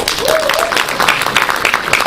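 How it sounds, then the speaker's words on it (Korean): Brief burst of loud audience applause at a product event, close and dense, with a voice briefly heard over it. "박수 한번 주십시오"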